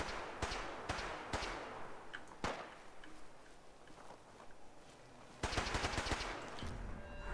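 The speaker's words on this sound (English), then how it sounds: "Who is shooting him?" Gunfire in the video game Fallout 4: sharp, loud shots crack out singly and in rapid clusters, with a dense automatic burst near the end, and no talking.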